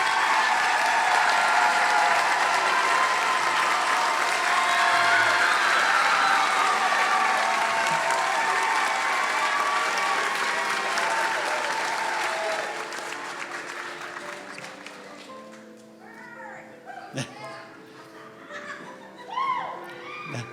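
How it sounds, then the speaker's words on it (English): A large commencement crowd at Montserrat's 2022 graduation applauds the graduates loudly for about twelve seconds, then the clapping thins and fades into scattered chatter and laughter. "please give one last round of applause to this incredible group of people"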